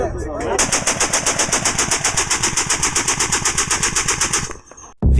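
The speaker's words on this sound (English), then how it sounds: "M2 Browning heavy machine gun is one of those weapons that seems to exist in every era and every war" An M2 Browning .50 caliber heavy machine gun fires a long, loud, rapid burst of evenly spaced shots that runs for about four seconds before it cuts off.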